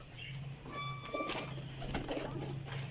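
Pigeons cooing in a loft: steady, close, overlapping low coos with a few brief chirps.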